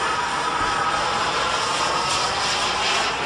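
A Viper Jet MK2 radio-controlled jet with a turbine engine flies by, producing a loud, steady turbine roar and high whine that holds level throughout with no pauses.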